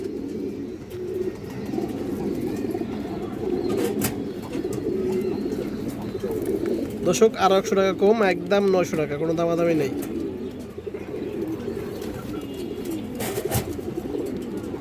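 Pigeons coo continuously in the background while someone talks over them, with a burst of louder, more varied calling partway through.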